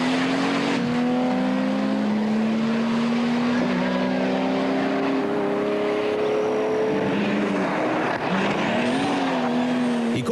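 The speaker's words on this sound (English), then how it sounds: "the powerful Porsche has little effort dealing with the slower cars that might be on the road ahead" A powerful Porsche rally car races along a Targa NZ tarmac stage with its engine loud and close, the engine note climbing and shifting through gears with occasional tire noise. No one speaks.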